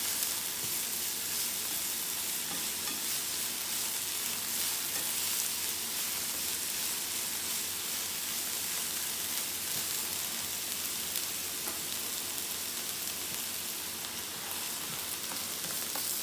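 Onions and green onions sizzle steadily in a hot pan while being stirred for salmon fried rice, a dense, even frying hiss holding throughout with no talk.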